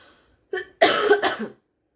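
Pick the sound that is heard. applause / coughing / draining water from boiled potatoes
coughing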